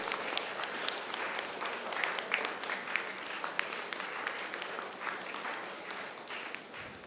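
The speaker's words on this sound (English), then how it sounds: "Audience, please join in this occasion with a big round of applause." A conference audience claps in a steady, dense round of applause that fills the room from start to finish, with individual sharp claps standing out near the front and no talking over it.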